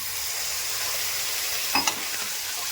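A pan of spiced Malabar spinach greens fries with a steady, even hiss. Near the end a brief burst of louder sizzle and a utensil clink are heard as a little water goes in.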